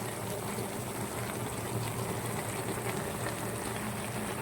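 White pumpkin pieces boil in a pot for a Tamil-style kootu, a steady dense bubbling and churning of water that stays level and close throughout with no voices.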